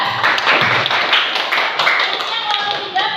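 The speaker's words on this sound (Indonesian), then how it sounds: "beri tepuk tangan untuk kelompok 2" Students in a classroom clap for group 2 during a teaching session, a moderately loud, somewhat irregular patter of hands with voices mixed in and occasional shouts.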